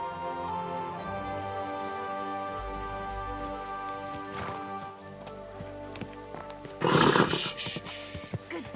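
A horse in a video game clip-clops and snorts over steady background music and ambience, the hoofbeats moderately faint, with a louder burst of rustling movement near the end.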